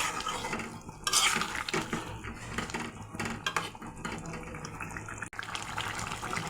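Fried taki fish going into a simmering green curry in a pot, with wet splashing, clinking of a spoon against the pan and steady stirring scrapes close by.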